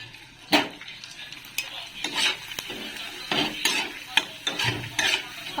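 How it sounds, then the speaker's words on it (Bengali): Papad being fried in oil in a pan on an induction cooktop, heard as a steady sizzle with repeated metal scraping and clinks of a utensil against the pan, close by and without talk. "বাকি পাঁপড়গুলো ভাজি এইবারে একটু ফুল পাঁপড়গুলো ভাজি"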